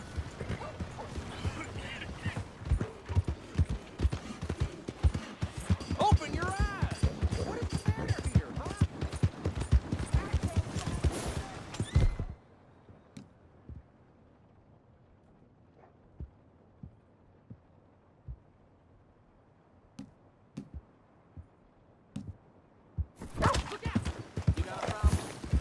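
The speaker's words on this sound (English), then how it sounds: "Wow, fine horse there." Horse hooves clip-clop steadily in the video game Red Dead Redemption 2, a busy rhythmic trot mixed with voices and town bustle for about twelve seconds, then near quiet before the sounds return.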